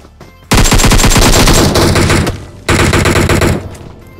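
Automatic gunfire in the PUBG Mobile battle game, loud and close: a dense rapid burst of shots for about two seconds, a short gap, then a second sustained burst, with no talk over it.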